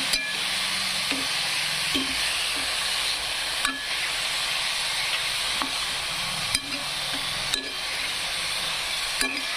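Tender dill greens (shepu) being stirred in a hot pan, a steady close sizzle with occasional scraping stir knocks repeating every second or two, no talk.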